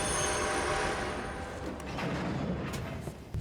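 Train rolling on rails in a video game set in the Old West, a steady continuous rumble with faint metallic clanks throughout, no voices.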